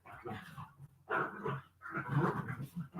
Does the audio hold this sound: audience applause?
no